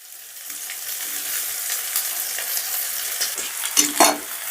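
Rice and mixed vegetables for veg pulao are stirred in a pan over a low gas flame: a continuous soft sizzle with repeated scraping strokes that grow louder and sharper toward the end, with no voices.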